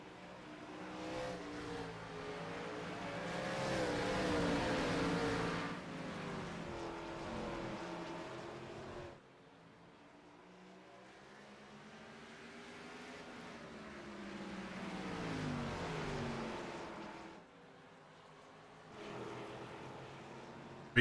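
Gen4 stock cars racing at North Wilkesboro, engines swelling and fading as the pack roars past, with loud passes around five and fifteen seconds, quieter stretches between, and a sharp cut near the end.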